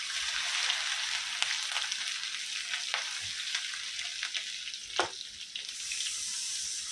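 Garlic and chillies fry in hot oil in a home kitchen pan as onions are added, giving a steady close sizzle with a few soft stirring clicks and scrapes throughout.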